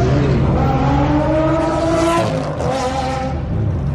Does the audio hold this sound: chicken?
no